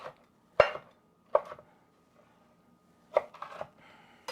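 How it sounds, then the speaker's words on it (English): Several sharp knife chops through a poblano pepper against a cutting board, isolated single strikes then a quick cluster, close and crisp with quiet gaps between. "give it a little bit of a chop first"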